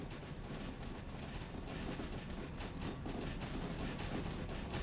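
A locomotive in the Derail Valley video game rolls steadily along the rails with a continuous low rumble and faint clacking from the wheels, heard alone at a moderate, even level.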